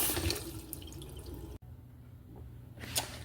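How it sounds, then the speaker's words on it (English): Potatoes being washed under running tap water in a sink, a steady close splashing stream that cuts out sharply midway, then resumes more softly with dripping. "So wash your potatoes until the water is clear."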